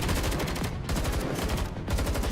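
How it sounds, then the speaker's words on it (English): Dense automatic gunfire from more than a dozen weapons rattles continuously in the icy air of the video game Girls' Frontline 2: Exilium, loud and unbroken with brief gaps. "More than a dozen streams of gunfire tear through the icy air"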